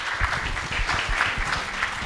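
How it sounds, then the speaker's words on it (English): Applause for distinguished panel speakers closing a panel discussion on deterrence and the Philippine armed forces, a brief, steady round of clapping from a seated audience. "please join me, ladies and gentlemen, giving our distinguished panel speakers a round of applause"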